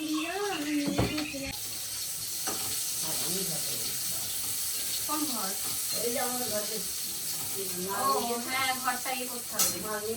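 Potatoes fry in a pan for khichuri, giving a steady bright hiss throughout while someone talks over it.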